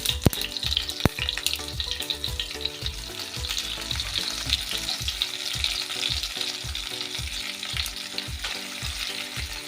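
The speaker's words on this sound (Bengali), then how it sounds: "এবার আমি এই ঝিঙেগুলো একে একে বসিয়ে দেবো" Ridge gourds go into hot oil tempered with mustard seeds and white cumin, giving a steady loud sizzle with a run of regular scraping stirs against the pan, close up and with no talk.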